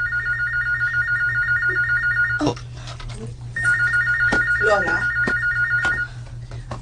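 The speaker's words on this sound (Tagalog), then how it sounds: "Ang telepono?" An electronic phone ringtone repeats its chirping pattern in two long bursts over a steady hum, with a brief spoken word in the gap.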